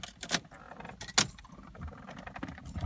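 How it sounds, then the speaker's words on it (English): Keys jangle in a few sharp bursts as a key is fitted into the ignition of a 1990 BMW 735iL, close and clear with no talk. "Let me put the key in the ignition here."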